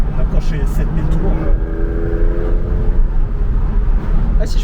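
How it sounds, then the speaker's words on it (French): A Porsche 996 Carrera's engine climbs quickly toward 7000 rpm from inside the car, a loud droning rise under someone talking. "Elle monte très vite dans les tours. On approche les 7000 tours."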